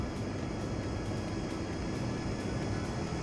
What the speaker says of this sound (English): I clearly turned this airplane off, but you can still hear the engine going